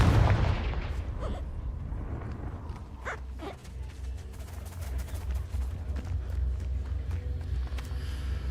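A Confringo fire spell goes off in the Hogwarts Legacy game with a loud booming burst at the start, then a rumbling, crackling aftermath of scattered impacts.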